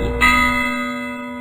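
A single church bell tolling for the dead strikes loudly, its deep ringing tone lingering and slowly fading.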